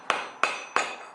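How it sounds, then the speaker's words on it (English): Three evenly spaced, sharp metallic hammer strikes driving out a serpentine belt bearing on a Nissan 240SX S13 with a 1JZ VVTi engine, each blow ringing briefly, close and loud with no talking. "we're just gonna hammer this thing out"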